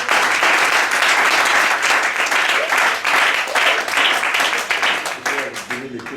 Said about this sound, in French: Est-ce que pour la décision prise, on peut les applaudir s'il vous plaît?